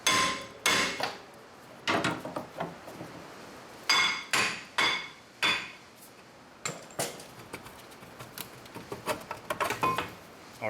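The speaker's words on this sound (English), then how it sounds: "now we're gonna use this hammer to tap on the rotor so it can come out" A hammer strikes a worn rear brake rotor on a Mercedes E350, sharp metallic clanks in irregular bursts, single knocks and quick runs of taps, close and loud with short ringing tails.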